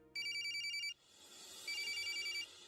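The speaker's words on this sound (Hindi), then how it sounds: "फिलहाल तो मम्मी का फोन आ गया।" A telephone rings with two loud electronic trilling bursts separated by a short quiet pause, close and clear.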